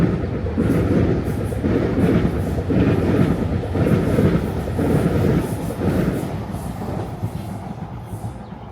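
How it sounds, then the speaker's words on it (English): A Singapore MRT train on the line between Yishun and Toa Payoh rumbles past, loud and sustained for several seconds. Its rolling roar carries faint rhythmic clacking and heard from outdoors with no voices. "I can hear the train, nice."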